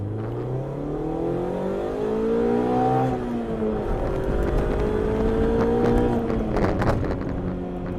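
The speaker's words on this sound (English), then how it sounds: "just on downshifts and some throttle blips" A Mazda MX-5 Miata ND fitted with a sound tube, its engine heard close up through a series of downshifts with sharp throttle blips, revs rising and falling in smooth sweeps.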